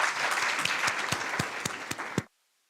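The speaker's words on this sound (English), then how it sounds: "Another round of applause" Audience applause at a university law clinic launch event, a steady wash of many hands clapping with a few sharper claps standing out, moderately loud, then stopping abruptly.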